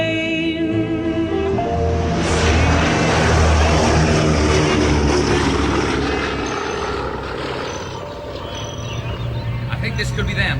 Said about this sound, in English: Fly the ocean in a silver plane.